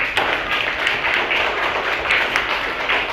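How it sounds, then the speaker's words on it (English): A classroom of students clapping their hands together during an English lesson, a steady run of dense, overlapping claps lasting throughout. "So everyone clap their hands for both of them."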